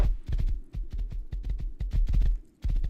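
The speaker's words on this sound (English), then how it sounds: "Horses are kind of loud too." Quick rhythmic hoofbeats of a horse in the video game Rust clop along at a steady trot, close and distinct, with a brief pause near the end.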